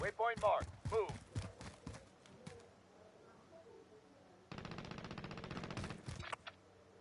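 Automatic gunfire in a Warzone match, a brief rattle of shots early on, then a sustained burst of rapid fire later, with talk mixed in.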